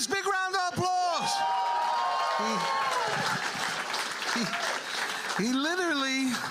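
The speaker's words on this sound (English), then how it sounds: "Jay Fiske, big round of applause." A comedy club audience applauding a stand-up comedian at the end of his set, a short burst of clapping under a loud announcer's voice that talks over most of it.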